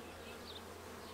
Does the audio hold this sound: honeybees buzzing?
yes